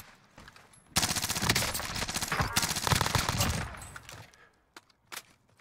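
PPSh-41 gunfire in a Warzone Rebirth match: a long dense burst of rapid automatic shots, then a few scattered single cracks as it tails off, with faint voices underneath.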